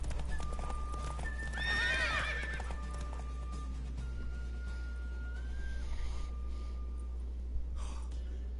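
A horse in The Witcher 3 video game gives a loud, close neigh over steady hoof clip-clop, with a softer snort later, all against a constant low background hum.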